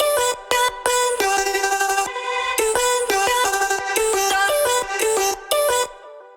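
EDM vocal chop run through Decapitator saturation, delay and reverb, a loud, bright, choppy pitched vocal melody in quick rhythmic bursts, with echoing tails filling the gaps between notes.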